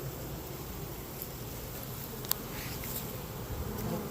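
Dense, continuous buzzing of honey bees swarming around an open beehive, a steady hum at moderate volume with a faint tick partway through and no talking.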